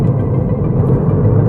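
Ford Fiesta ST Mk8 engine running, a steady low rumble with no talk over it.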